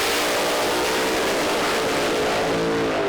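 Pro Mod drag cars, including a Camaro, launch at Santa Pod Raceway with a continuous, overwhelming engine roar that fills the whole stretch at full loudness.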